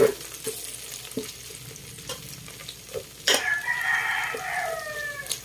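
Pakbet ingredients fry in oil in a pan while being stirred, giving a steady close sizzle with scraping knocks; partway through, a loud rooster crows nearby, and its drawn-out call rides over the frying.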